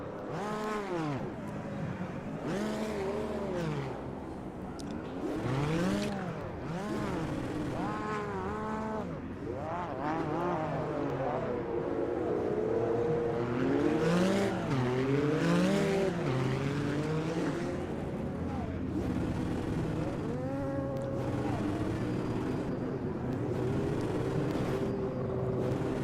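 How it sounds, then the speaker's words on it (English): A race car engine in the Automobilista 2 racing game during a community race at Imola or Kyalami whines and revs up and down through gear changes, a steady, moderately loud drone throughout. "Can you guys hear my engine?"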